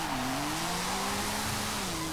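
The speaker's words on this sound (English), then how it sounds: "you've got that incredible sounding engine to go along with the good looks" A 2019 Porsche 911 Speedster's engine in Forza Horizon 5 holds a steady, loud drone with a sustained rising then levelling pitch, and no voices are heard.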